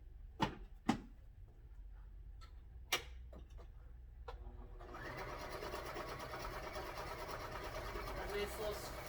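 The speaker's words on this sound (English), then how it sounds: "Nice little stretch, zigzag stitch happening." A sewing machine runs a zigzag stitch on a scrap test strip of fabric, starting after a few sharp clicks and then whirring steadily, fairly faint and close.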